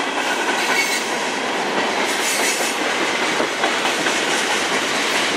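A loud, steady roar of a CN manifest freight train led by locomotives CN 3144 and CN 2969 rolling past close by in Sarnia, Ontario, wheels clattering and hissing continuously without a break.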